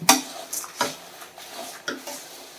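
Lentils and curry leaves dry-roast in a pan for idli podi, stirred with a spoon that gives a handful of dry scraping strokes and light metallic clinks against the pan, with no sizzle.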